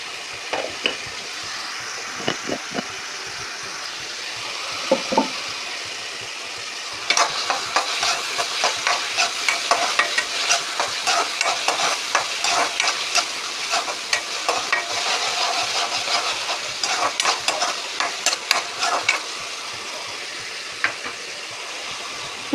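Fish curry masala fries in a pan as turmeric goes in, a steady sizzle that grows busier midway with repeated stirring scrapes and clatter.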